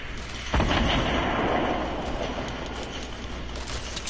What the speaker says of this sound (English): He's shooting at us like crazy.